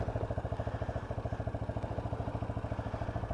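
A UM Commando Classic motorcycle's water-cooled engine runs at a steady idle, giving a fairly quiet, even, rapid chugging pulse with no voices.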